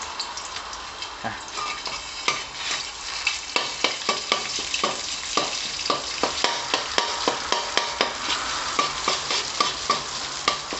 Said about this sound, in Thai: เดี๋ยวก็จะผัดนะครับผัดพริกแกงให้